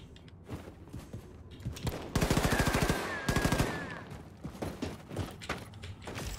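Bursts of automatic gunfire aimed at the player in the Wolfenstein video game, two dense rapid volleys standing out loud in the middle over constant game noise and clatter.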